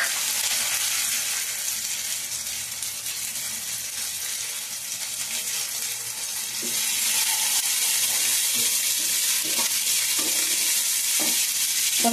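Chicken fries in a pan with a continuous loud hiss and sizzle. Scattered light taps and clicks of stirring come in toward the end.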